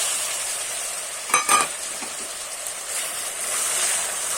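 Boiled raw papaya stirred into caramelized sugar in a pan for papaya naru, heard as a low steady sizzle with a couple of short scraping stirs near the middle.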